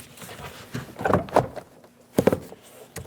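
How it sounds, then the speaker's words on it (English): Plastic interior door panel on a 2001-2006 Chevrolet Silverado 2500 HD pushed up and pressed down onto the door, giving a few close dull thumps and rattling knocks spread over about three seconds. "Push the door up and all the way back, and then push down, and you'll feel it seat."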